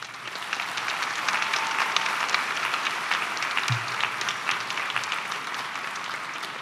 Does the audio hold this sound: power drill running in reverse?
no